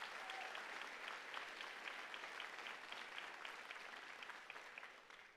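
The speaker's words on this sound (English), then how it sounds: "I think that deserves a big round of applause" Audience at a college campus convocation applauding, a steady distant wash of many hands clapping in a large hall, even and sustained throughout, slightly tapering at the end.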